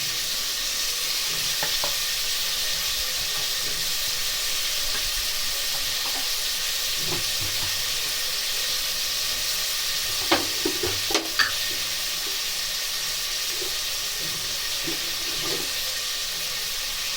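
Onions sauté with turmeric and salt in a pan, giving a steady, dense sizzle throughout, with occasional stirring scrapes and a few light clinks, close and without talking.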